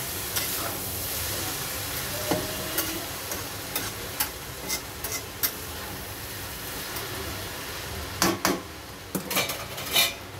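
A spoon clinks and scrapes against a pan while a Chinese dish is mixed over low gas. Soft frying sizzles underneath, and sharp metallic knocks come irregularly, bunching together near the end.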